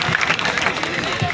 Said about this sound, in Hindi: जोरदार तालियां भाई के लिए